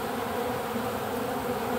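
Bees gather around syrup in a dense, steady buzzing drone, close and unbroken, with no talk.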